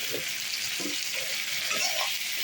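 Green chilli, tomato and chilli powder sizzle steadily in a hot pan, a dense, even hiss with soft stirring scrapes at regular intervals.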